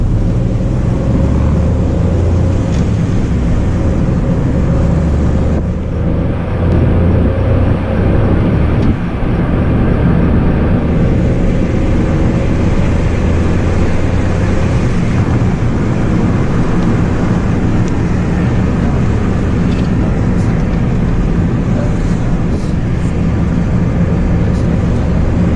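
A constant low engine hum and road rumble from a 2017 Mahindra KUV100 K8 fill the whole stretch, loud and steady like a car cruising, with a brief swell partway through.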